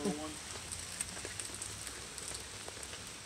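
Steady rain falling outdoors, a faint continuous hiss with scattered drop ticks, alone at low level.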